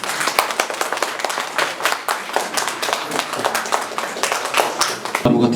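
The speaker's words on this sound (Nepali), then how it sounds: "जोरदार ताली प्रमुख अतिथिज्यूका लागि" An audience at a Nepali book launch ceremony claps for the chief guest, a steady patter of many hands at moderate distance that keeps going for several seconds before a louder burst at the end.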